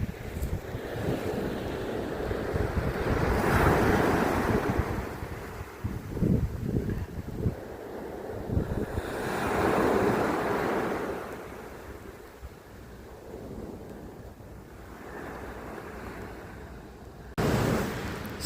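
Waves wash onto a winter beach at Bray Head, surging in broad swells every few seconds while steady wind buffets the microphone throughout; no voices.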